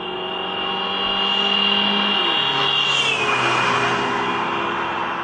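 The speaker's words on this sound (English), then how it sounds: "We hear this effect when a moving car blows its horn as it passes us." Single car passing close by with a steady horn-like tone that drops in pitch as it goes past, loud and alone, with no voices.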